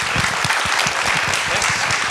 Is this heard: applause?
yes